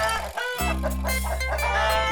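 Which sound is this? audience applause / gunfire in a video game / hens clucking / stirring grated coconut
hens clucking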